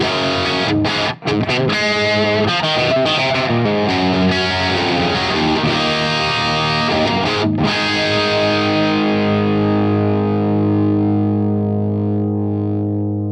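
A high-gain electric guitar amplifier with the bass pulled back plays heavily distorted chords and riffs, loud and sustained, ending on a long ringing chord that slowly fades.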